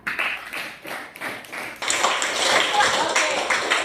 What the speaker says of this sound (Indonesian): Kita berikan aplaus untuk siapa namanya?